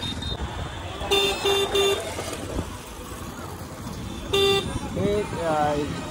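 A new electric scooter's horn gives three quick beeps, then after a pause one more short beep and a final toot, bright and close, while people talk nearby.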